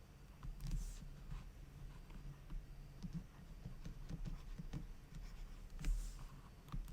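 Marker or chalk scraping on a board during a physics lecture on rotation, a series of faint, irregular short strokes and taps over a quiet room hum, with no talking.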